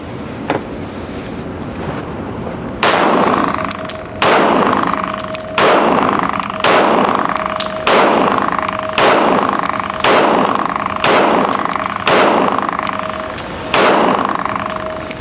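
A Rock Island 1911 pistol fires about ten loud, evenly spaced shots outdoors, each crack followed by a short ringing echo, after a faint single pop at the start.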